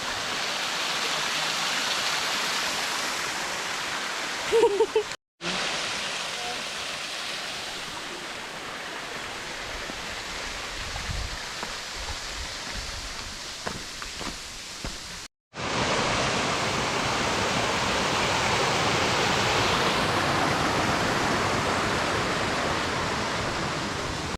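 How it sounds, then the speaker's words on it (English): Small waterfall beside a mountain trail in Great Smoky Mountains National Park, a steady rushing splash of water heard close and continuous, briefly cut twice. "we're passing this cute little waterfall on the way up"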